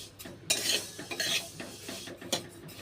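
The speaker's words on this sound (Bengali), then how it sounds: "এটা সোনা মুগ ডাল, একটুখানি ভেজে নিচ্ছি।" Sona moong dal being stirred and lightly fried in a pot, with close scraping spoon strokes against the metal and faint sizzling in between, no voices.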